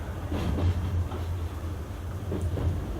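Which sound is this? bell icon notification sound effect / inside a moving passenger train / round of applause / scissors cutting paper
inside a moving passenger train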